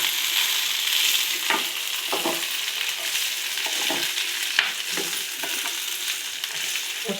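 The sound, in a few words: okra pieces frying and being stirred in pan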